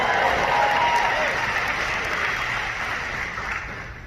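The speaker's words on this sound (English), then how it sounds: "You can clap for that" A convention audience applauds, a broad wash of clapping that starts loud and slowly fades over a few seconds, with faint crowd noise beneath.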